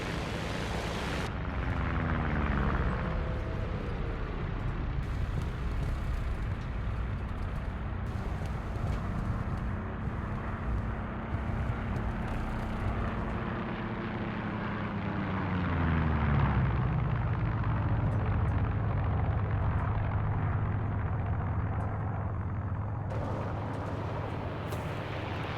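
Aircraft engines drone overhead in the War Thunder video game, a loud continuous roar with a tone that sweeps up and then down as planes pass, layered over rumbling vehicle noise for the whole stretch.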